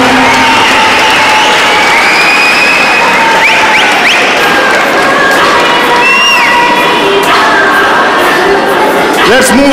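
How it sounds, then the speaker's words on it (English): A loud crowd at a university sports gala closing ceremony cheers and shouts over steady applause for the full length, with children's shouts and whistles rising from the dense noise. "Give them a huge round of applause."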